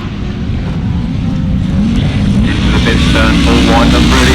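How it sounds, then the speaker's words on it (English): A grasstrack racing motorcycle with a Big Bang engine roars loud and continuous at a 2004 International Poacher Grasstrack meeting. The engine note rises and builds, with commentary voices mixed into the noise. "Sounds like a Big Bang engine to me."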